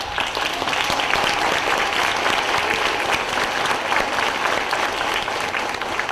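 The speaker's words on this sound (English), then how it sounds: "Get a round of applause." Applause from an audience at a public presentation in New Jersey, a steady wash of many hands clapping at even volume for about six seconds, with no talking over it.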